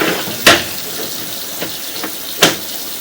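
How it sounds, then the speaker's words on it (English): Water runs through a plumbing line as a steady, even hiss, broken by one sharp knock near the start, another near the end and two softer taps in between. "we are running water, so there is a little bit of water in the line"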